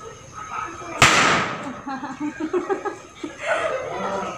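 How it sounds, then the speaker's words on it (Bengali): A single Diwali chocolate bomb firecracker bursts with a sharp crack outdoors, followed by people laughing and chattering nearby. "চলো ফুটাও, চকলেট বোম ফুটবে"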